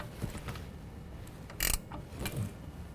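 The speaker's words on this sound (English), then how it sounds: "we're going to tighten our upper ball joint to 85 foot-pounds" Wrench tightening an upper ball joint during a 6-inch lift kit install on a 2015-17 Ford F-150 4WD, heard as a few quiet ratcheting clicks and one brief sharper mechanical burst, close and alone.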